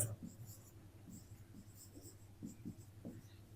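Pen scratching across paper with soft intermittent strokes while math words are written out, quiet and close with a low steady hum beneath.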